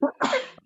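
A single short sneeze, close and fairly quiet, in a calm indoor setting with no talk during it.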